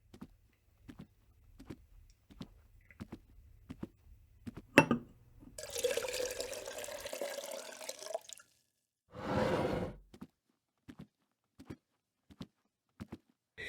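Water poured into a glass in one steady stream of a few seconds, then a second shorter pour, set among quiet taps and clicks in a calm indoor room.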